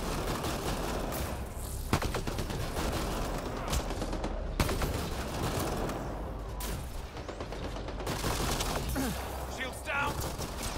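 Dense video-game gunfire in Apex: sustained bursts and sharp cracks over a rumbling battle background, with occasional louder shots standing out across the whole stretch.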